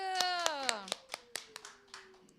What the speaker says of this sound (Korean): 오늘 처음 온 혜리에게 또 환영의 박수.